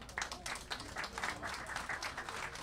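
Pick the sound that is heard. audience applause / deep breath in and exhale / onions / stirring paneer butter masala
audience applause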